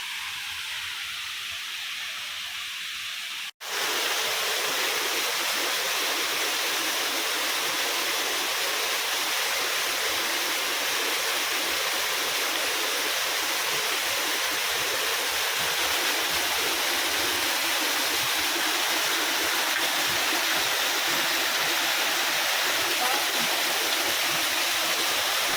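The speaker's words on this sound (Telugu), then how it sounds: "ఫస్ట్ వాటర్ ఫాల్ అండి ఇది" A large waterfall roars with a powerful, continuous rushing wash that bursts in loudly after a brief quieter moment, then holds steady and close for the rest.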